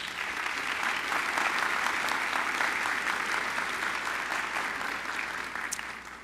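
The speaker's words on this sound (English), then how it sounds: "Let's applaud them anyway." Audience at a college forum applauding award and fellowship winners, a dense, even roomful of clapping that holds steady and tapers slightly toward the end.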